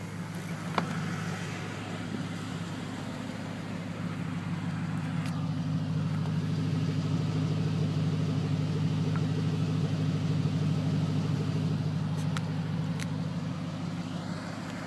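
A 2007 Ford Mustang GT/CS V8 with a Borla axle-back exhaust idles steadily nearby, a low, even rumble running the whole time with no talking over it.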